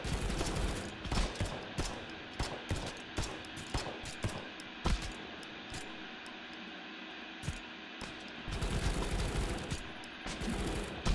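Dense video-game gunfire with rapid automatic bursts and single shots cracking one after another, loud and close over a constant hiss of ambient background noise.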